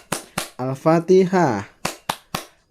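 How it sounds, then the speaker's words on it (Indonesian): Rhythmic Islamic-style clapping for Al-Fatihah during a first-grade religion lesson: two sharp, close claps, a short chanted phrase, then three more crisp claps. "Kita mulai tepuk Al-Fatihah dengan nada tepuk tangan Islami."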